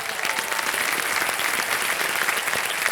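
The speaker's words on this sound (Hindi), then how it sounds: "तालियां बजती रहें इनके लिए" A studio audience at the quiz show Kaun Banega Crorepati claps loudly and continuously, a dense, even roar of many hands with no voices.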